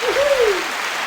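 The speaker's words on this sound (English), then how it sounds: "Listen to that applause. They're going mental." A button-triggered applause sound effect bursts out briefly, a short wash of clapping, with a tonal sweep riding over it.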